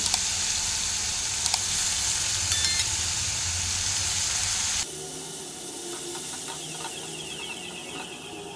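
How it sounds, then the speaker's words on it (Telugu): Dried prawns frying with turmeric in a hot pan, giving a steady close sizzling hiss that shifts to a quieter, duller frying tone about halfway through, with no talking. "కడిగేసి పెట్టుకున్న రొయ్యలు వేసుకొని మంచిగా ఫ్రై చేసుకోవాలి రొయ్యల్ని"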